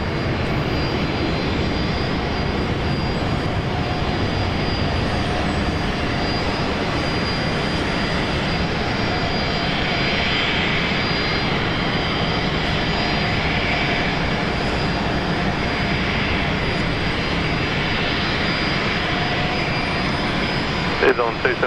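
A Fokker 70 airliner in a special silver livery being pushed back at Brisbane Airport, its engines producing a steady, broad roar that holds at an even level from start to finish, with a voice faintly audible beneath it.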